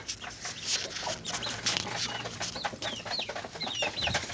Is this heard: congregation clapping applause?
no